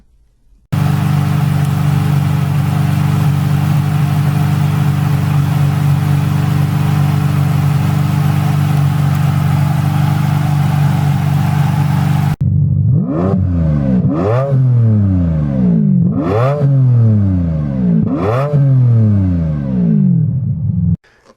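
A Ferrari 550 Maranello's stick-shift V12 holds a loud, steady high-rpm drone, then cuts to a series of five sharp, close revs, each climbing and falling away, with no talk.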